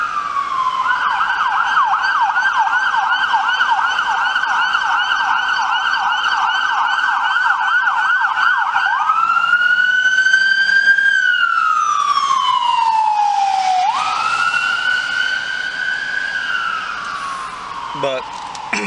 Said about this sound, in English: Here comes an ambulance. Hold on a second.